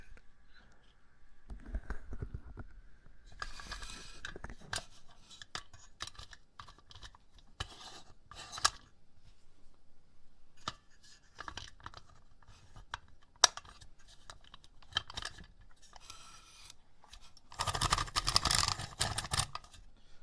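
Keys clatter on a gaming computer keyboard in irregular bursts of close, crisp clicks, with pauses between runs and a louder, dense flurry near the end.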